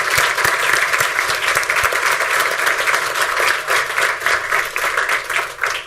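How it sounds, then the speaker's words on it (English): Audience applause at a board meeting, steady dense clapping from a seated crowd honoring a departing member, continuous and fairly loud for the whole stretch. "Could you just stand up so we can applaud you?"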